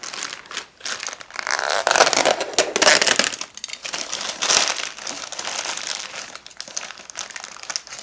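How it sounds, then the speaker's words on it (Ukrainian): A parcel holding a stainless steel kitchen mixer tap is unpacked, its packaging crinkling and rustling loudly and continuously up close, with crunchy crumpling bursts throughout. "Переходимо до розпакування."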